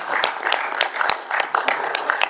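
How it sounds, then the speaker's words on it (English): Small group clapping in a committee meeting room, a sparse round of distinct, fairly loud individual hand claps with an uneven rhythm. "I think it's appropriate to give him a big round of applause"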